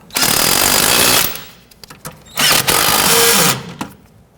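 Two loud bursts of a power impact wrench tightening nuts on a front lower ball joint of a 1992-1996 Toyota Camry, each rattling hammering run lasting about a second, separated by a brief pause with faint clinks.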